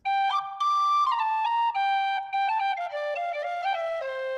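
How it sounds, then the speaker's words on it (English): Sampled whistle from a commercial sound library, playing a clear melodic tune of sustained and stepping pitched notes, loud and alone with no other sounds. "This is a pretty detailed whistle."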